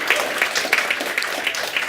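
Brief audience applause for the sponsors at a Grin cryptocurrency talk, scattered nearby clapping with distinct individual claps rather than a full roar.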